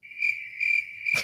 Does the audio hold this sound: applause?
no